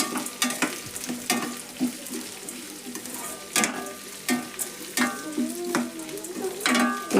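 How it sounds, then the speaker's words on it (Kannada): Chopped green chillies fry in hot oil for a potato palya, giving a steady sizzle broken by repeated sharp scrapes and clinks of a stirring spoon against the pan, close up, with no talk. "ಈಗ ಹೆಚ್ಚಿಟ್ಕೊಂಡಿದ್ದ ಮೆಣಸಿನ್ಕಾಯಿ ಹಾಕ್ತೀನಿ ರೀ. ಇದನ್ನು ಫ್ರೈ ಮಾಡ್ತೇನೆ ನೋಡ್ರಿ ಎಣ್ಣೆ ಒಳಗೆ."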